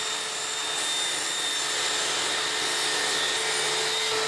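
A table saw cutting the first groove along a wooden plank, a loud, even high-pitched whine and rasp that holds unbroken throughout with no talking.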